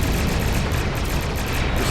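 Pulse weapons firing nonstop in a starship combat video game, a loud, dense barrage of rapid energy shots with a steady roar underneath throughout.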